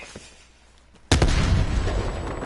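A grenade explodes in the video game Black Ops Cold War: after a quiet lead-in, one sudden loud, booming blast hits and rumbles on with a long, dense decay.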